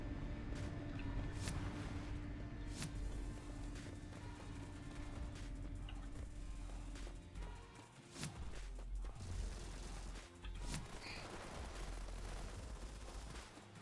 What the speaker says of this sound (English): Always follow the sound of gunfire.